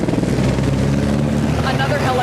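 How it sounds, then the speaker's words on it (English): A helicopter flies overhead during a search for missing people after deadly flooding in Texas Hill Country, its loud steady rotor drone filling the air while someone talks over it. "Another helicopter overhead here"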